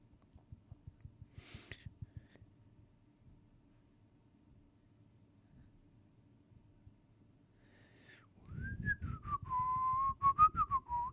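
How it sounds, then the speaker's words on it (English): A person whistles a wavering, melodic tune that starts after a long stretch of low game rumble and thuds, growing fairly loud and close for the last few seconds. "Should I whistle during this?"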